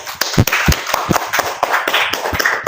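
Scattered clapping from a small audience for the Paskibraka members, sharp individual claps close to the microphone, irregular and uneven rather than a full ovation.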